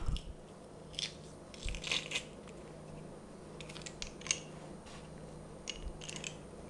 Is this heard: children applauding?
no